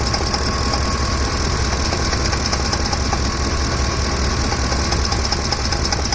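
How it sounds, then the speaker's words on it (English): A truck engine runs with a steady shaking and knocking from the top of the engine, the loud, continuous rattling vibration holding evenly throughout with no voices. "Engine starts shaking."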